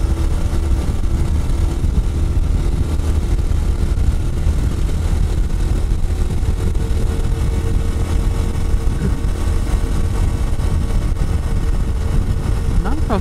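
Honda CT125 Hunter Cub motorcycle engine fitted with a Brisk multi-spark plug, droning loudly and steadily at high revs near the limiter under full throttle, a dense, continuous mechanical roar close by.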